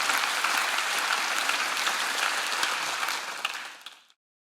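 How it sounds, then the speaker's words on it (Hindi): A church congregation applauds Pastor Henry, a full, dense burst of clapping that holds steady for about three seconds before tapering off to silence. "उनके लिए तालियां बजाएं"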